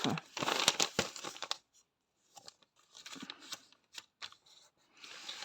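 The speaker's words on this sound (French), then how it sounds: "Je vais déplier ma feuille parce qu'avec les plis, ça induit souvent en erreur." A folded sheet of paper from a crochet pattern for raccoon eye patches is unfolded at close range: bursts of crisp crinkling and rustling, a short silent pause, then scattered softer crackles and handling noises, with no talk.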